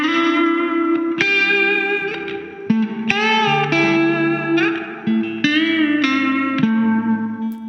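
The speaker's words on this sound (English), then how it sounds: "we moved into a fairly vanilla but still pretty tasty plate reverb" Electric guitar chords ring out with a lush plate reverb from an EHX Oceans 11 pedal, each strum blooming into a smooth, sustained wash that lingers between changes.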